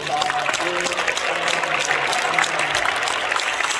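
Audience at a church association inauguration applauds the newly installed president, a continuous wash of clapping at steady volume with faint voices underneath.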